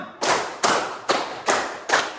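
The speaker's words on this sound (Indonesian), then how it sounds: "Tepuk satu, tepuk dua, tepuk tiga, tepuk empat, tepuk lima." Classroom of students clapping a counted pattern together, five sharp unison claps evenly spaced, each crisp and loud with a brief room decay, no talking between them.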